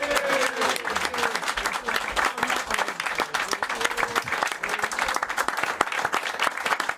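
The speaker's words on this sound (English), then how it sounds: "Give me a round of applause." Studio audience applause on a football talk show, brisk overlapping claps with a faint voice or tone briefly under the start, continuing at a steady level throughout.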